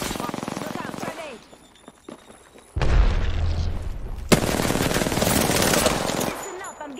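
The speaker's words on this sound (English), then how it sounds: "I'm getting shot at." Apex Legends gunfire: bursts of rapid automatic fire and heavy booms, loud and close, mixed with game noise while a player talks throughout.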